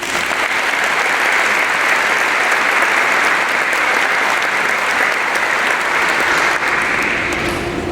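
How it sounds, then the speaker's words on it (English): Audience at a law school commencement ceremony applauding: steady, dense clapping from a large crowd continues without a break for about eight seconds, close and loud. "we want to give him a round of applause."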